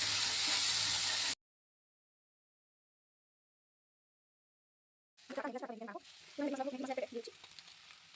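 Maggi noodles sizzling and frying in a pan, a hissing burst after a long silence, fairly close with some stirring texture.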